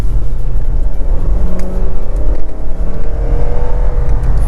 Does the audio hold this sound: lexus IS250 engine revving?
yes